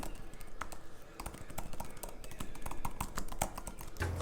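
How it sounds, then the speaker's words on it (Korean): Quick, fairly quiet typing on a white Magic Keyboard for iPad, a steady patter of light key clicks with no voices. "입력할 때 소음이 조금 있어서 완전 조용한 곳에서 사용을 할 때는 조금 조심해야 되는 점이"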